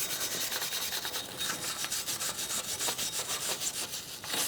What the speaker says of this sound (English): Get a wire brush and just go around it.